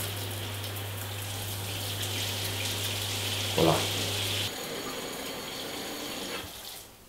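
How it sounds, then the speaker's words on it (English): Rainwater runs from a tap in a steady continuous splash at moderate level, with a low hum that stops partway and a short word spoken over the flow. "Nice clear good water coming through here."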